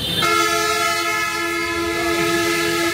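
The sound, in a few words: truck horn honking on a road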